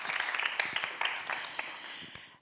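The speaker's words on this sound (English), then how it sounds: "a big applause" An audience at an Art & Tech Café talk on interconnectedness gives brief, fairly soft applause. The scattered claps run for a couple of seconds, then fade out quickly.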